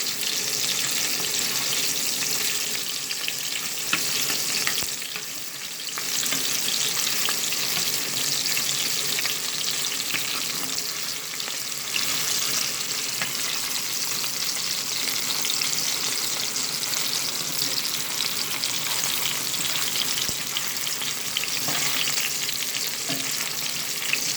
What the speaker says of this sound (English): turn each one of them and allow them to fry and brown on each side